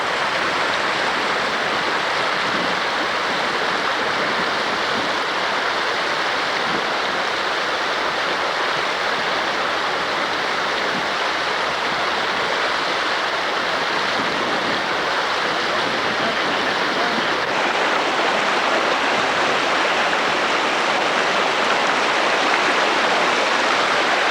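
Waterfall with heavy flow pouring beside a washed-out road, a powerful unbroken roar of rushing water, close and loud, holding steady for the whole stretch with a slight swell near the end.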